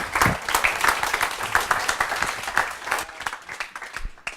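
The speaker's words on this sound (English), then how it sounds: "So please give a round of applause of your appreciation." An audience applauds at an accounting business broking presentation, loud and close at first, dense clapping that thins out toward the end before fading.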